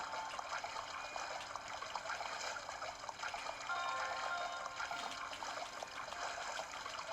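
Water rushes and splashes steadily in The Legend of Zelda: Breath of the Wild as the character shield surfs through it, a continuous mid-to-high wash with no speech.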